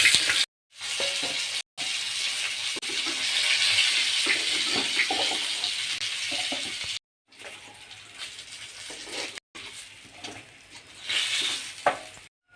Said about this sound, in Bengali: এখন বাকি মাছগুলো আমি ভেজে নেব একইভাবে